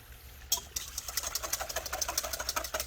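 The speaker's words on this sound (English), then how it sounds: "Whisk it up." A whisk beats quickly against a bowl while mixing sugar, salt and peppercorns into a vinegar brine for pickled red onions. The clicks come in a fast, even rhythm, close and clear.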